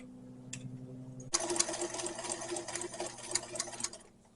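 A sewing machine stitches a bread bag, starting after a short quiet pause with a brief tap, then running fast and steady for a few seconds before slowing to a stop.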